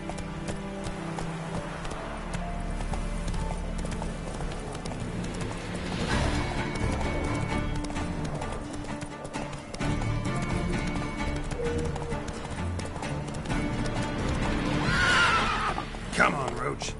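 Roach, Geralt's horse in a video game, gallops with rapid rhythmic hoofbeats and lets out loud, shrill neighs, layered over game ambience and voices.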